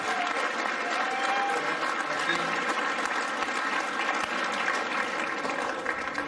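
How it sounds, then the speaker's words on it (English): A crowd at a speedway awards event claps continuously, a dense and even patter of applause that sounds somewhat distant and holds steady throughout. "So let's give them a round of applause."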